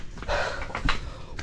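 A dog pants in short rapid bursts close by in a quiet outdoor setting, the breathy huffs brief and fairly soft, with no talking over them.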